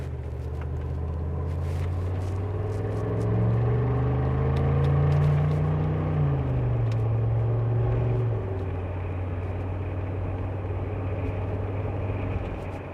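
A 2004 Mercedes G-Wagon's low, steady engine rumble swells and deepens midway as it accelerates, then settles back to an even drone, with a few faint clicks and rattles on top.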